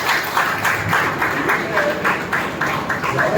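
Applause from attendees at a retirement farewell gathering, a steady broadband patter of many hands clapping together for the whole stretch at moderate loudness.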